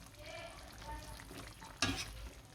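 Potatoes dropped into chicken adobo frying with pineapple, a steady close sizzle and stirring, then a sharp splash and louder crackle as the pieces hit the hot pan.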